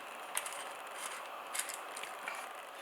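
Small metal clicks and a brief ratcheting action come from the front seat lock on a KTM 690 motorcycle as it is worked loose, quiet and close with a few sharper ticks.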